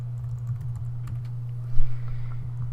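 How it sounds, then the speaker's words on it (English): Someone types on a computer keyboard, a quick run of light key clicks over a steady low hum, with no voices. "so all we have to do is start typing, and type in your name and your partner's name."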